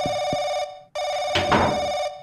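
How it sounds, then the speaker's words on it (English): A telephone rings in the RPG Maker horror game Paranoiac, a loud electronic bell trilling in two long rings separated by a brief gap, with a short rustling noise during the second ring. "Where's that phone coming from?"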